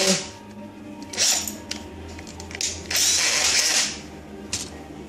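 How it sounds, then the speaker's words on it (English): A cordless drill drills into an RC conversion of a Panzer 38(t) tank model, whirring in short bursts with ratcheting clicks between them, close by, over a low background hum. "So I'll whack him in the good old"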